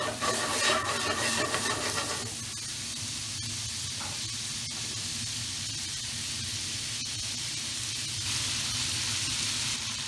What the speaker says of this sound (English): once your meatballs have seared and they're nice and brown